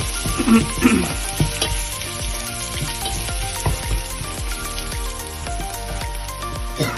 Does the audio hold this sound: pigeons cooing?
no